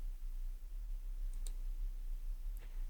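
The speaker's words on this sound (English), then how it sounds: "You can click this." A computer mouse button clicked once or twice, sharp and close, against a steady low hum in an otherwise quiet room.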